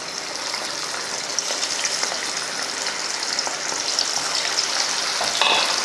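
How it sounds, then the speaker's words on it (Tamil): Chicken pieces deep-frying in hot oil, heard as a steady, dense crackle and hiss that holds fairly loud throughout and swells slightly at the end. "எண்ணெயும் பார்த்தீங்கன்னா நல்லா காஞ்சிருச்சு இப்போ பொறிச்சு எடுத்துடலாம்"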